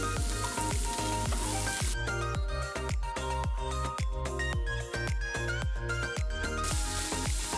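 Corn kernels frying in hot oil in a pan, with a continuous bright sizzle and sharp spattering pops crackling throughout, close and alone with no talk.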